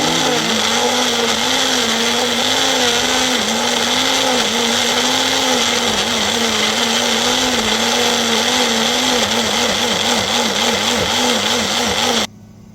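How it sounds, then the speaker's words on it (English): A kitchen blender grinds a mixture of oil, water and chicken marinade with a loud, steady motor whir and a wavering pitch as the contents churn. It runs nonstop, then cuts off abruptly at the end. "So now in a blender, I'm going to blend this together."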